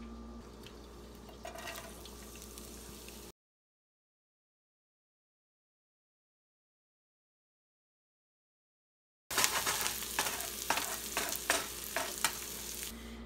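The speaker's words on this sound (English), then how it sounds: "in a pan over medium heat with some olive oil, we want to lightly grill our red onions." Red onions lightly grilling in olive oil in a pan over medium heat give a steady sizzle with occasional stirring scrapes, broken by a long silent gap before the frying noise returns louder.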